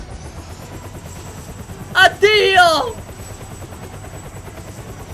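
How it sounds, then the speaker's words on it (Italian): A helicopter in the Roblox video game drones with a steady rotor thrum throughout, while a voice briefly calls out over it midway. "Vai con l'elicottero!"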